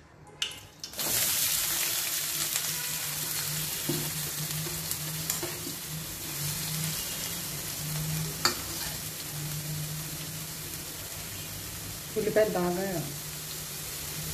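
Chopped onions and green chilies hit hot oil in a pan for a ridge gourd curry, a sharp sizzle at the start settling into a steady frying hiss, with stirring scrapes and a brief clatter near the end.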